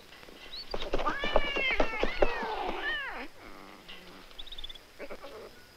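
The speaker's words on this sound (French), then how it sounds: "Minou, Minou, Minou, Minou, Minou, viens là." A cat meows loudly in a series of drawn-out, rising and falling cries, followed by quieter, shorter calls, with no talking over it.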